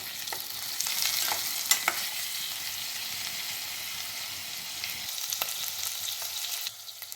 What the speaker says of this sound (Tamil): அப்படியே லேசாக அப்படியே ஃப்ரை பண்ணணும் உடையாமல்